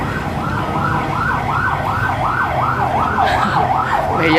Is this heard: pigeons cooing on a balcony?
no